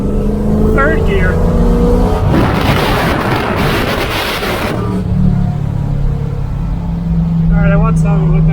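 A 1970 Camaro project car's engine roars loudly for about three seconds as it accelerates hard while driving, the sound heard from inside the car, with a person talking before and after the burst.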